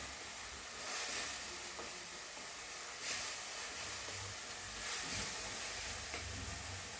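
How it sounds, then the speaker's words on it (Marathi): Masala spices fry in hot oil as the tempering for chole, a steady sizzling hiss that stays close and even throughout, with occasional stirring swells and no voices. "हे फोडणीत टाकल्यामुळं काय होतं छानपैकी लाल असं तवंग पण येतो आणि मसालाही परतला जातो"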